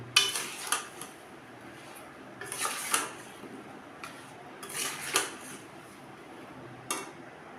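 Raw mango pieces are mixed into oil in a pan, with a spoon scraping and clinking against the metal in irregular bursts separated by quieter pauses, close by and fairly soft.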